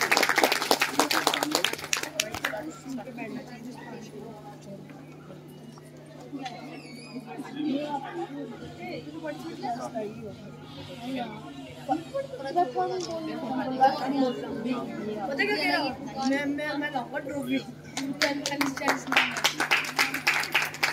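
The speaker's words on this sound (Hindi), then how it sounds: "एक बार जोरदार तालियां श्रेया पवार के लिए।" An audience at a Republic Day award ceremony breaks into clapping, loud bursts at the start and again at the end, with a voice speaking and murmured chatter in between.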